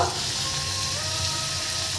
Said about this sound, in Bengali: এই মশলাটা আমি এখন কষিয়ে নেব কড়াইতে দিয়ে দেবো